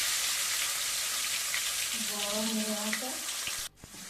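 A fish head fries in hot oil in a wok, giving a loud, constant sizzle; midway a brief tonal hum rises over the crackle, then the sizzle drops off sharply near the end.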